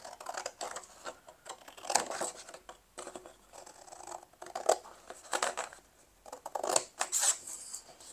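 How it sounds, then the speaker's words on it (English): Big, slightly blunt scissors cutting out a paper card for a 3D envelope card, a series of close, quiet crisp snips and paper rustles in irregular bursts with short pauses. "I'll use my big scissors to cut this out"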